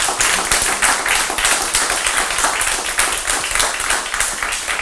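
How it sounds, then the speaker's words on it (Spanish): Audience applause after a talk about SETI and cosmic silence, a rapid, dense patter of many hands clapping with a rippling rhythm, steady and moderately loud from start to finish. "yo les pido que le den un fuerte aplauso, por favor"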